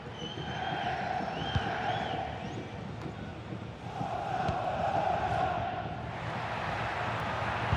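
Stadium crowd in an FC26 football match rumbles steadily with swelling roars and chants, a broad distant wash of cheering that rises and falls over several seconds without a clear break.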